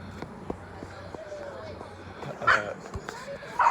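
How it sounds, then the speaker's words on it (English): Dogs at an animal shelter give a couple of short, distant barks late on, faint against a low indoor background hum. "there's a lot of dogs here"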